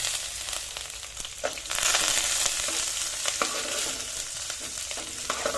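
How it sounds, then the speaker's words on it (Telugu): Cumin and mustard seeds splutter in hot oil, a continuous bright sizzle scattered with sharp pops and crackles, growing louder partway through and staying close and steady. "జీలకర్ర ఆవాలు సిట్టపడలాడుతున్నాయి"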